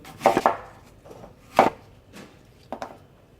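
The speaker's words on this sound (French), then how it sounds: "Et nous passons au découpage de nos pommes." A knife chops apples on a cutting board in a few uneven strokes, sharp close taps with pauses between, no talking.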